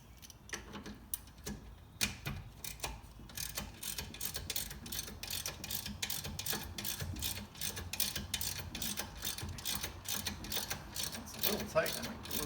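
A ratchet wrench clicks steadily on the 12 mm strain relief bolt of a brake line during a wheel bearing job on a 2016 Honda CR-V, with rapid repeated ticks at close range and a voice talking faintly in places.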